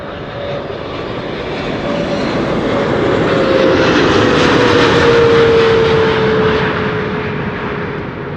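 An 11-year-old airplane, first flown in February 2014, arriving at an airport: a broad, steady engine roar that swells to a peak mid-pass and then eases slightly, with a faint rising whine threaded through it.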